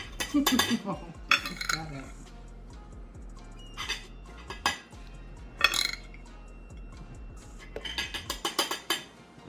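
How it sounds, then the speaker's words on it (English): A serving spoon clinks and scrapes against dishes while eggs and home fries are portioned onto plates, with a burst of metallic clatter near the start, scattered knocks through the middle and a quicker run of clinks at the end. "I'm going to take my nice serving spoon here and serve it out to our celebrity judges today"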